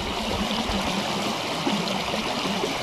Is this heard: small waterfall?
yes